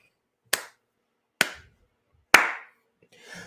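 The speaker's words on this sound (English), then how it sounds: "Hand clap." Three sharp, separate hand claps ring out about a second apart, each a crisp broadband crack with a short tail, followed by a softer, fainter rustle at the end; no talking.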